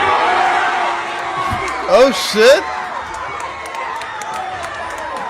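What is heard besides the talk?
rowdy kids screaming in a movie theater during Minecraft showing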